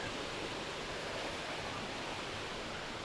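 Small stream near a prayer house, a steady, even rush of flowing water, continuous and moderately quiet, with no voices.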